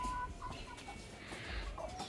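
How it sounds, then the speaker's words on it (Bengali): Egg-laying hens kept at a village house cluck and murmur softly at a modest distance. The calls are irregular and fairly faint over low background noise, with no talking. "এই যে দেখেন, এগুলো হচ্ছে ডিম পাড়া মুরগি।"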